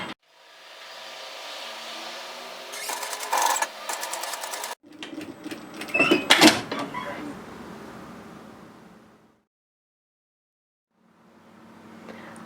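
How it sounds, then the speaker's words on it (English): A sewing machine stitches binding onto a top, running in two steady whirring bursts separated by a brief stop, then falls quiet before starting up softly again. "I've just sewn a couple of stitches of the binding just to make sure it's stitching properly"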